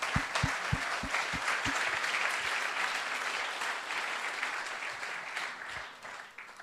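An audience applauds presenters at a startup academy event with steady, moderately distant clapping throughout, and a few low thumps near the start.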